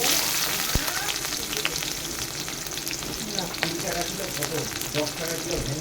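Chopped onions fry in hot oil just after small fish have been fried, a loud continuous sizzle close by with occasional clicks of a spatula stirring through it.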